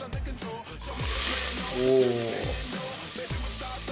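Onion sautéing in olive oil in a pan while cooking Moroccan beef soup, a steady moderate sizzle with occasional stirring scrapes, heard alone.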